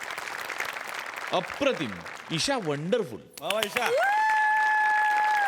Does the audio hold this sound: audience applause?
yes